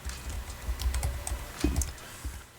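Fingers typing a supplier name on a computer keyboard: a short run of soft, close key clicks at an uneven pace, with a couple of firmer taps near the end and no talking.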